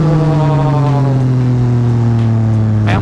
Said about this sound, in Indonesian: jadi kalau gasnya agak dibuka dikit.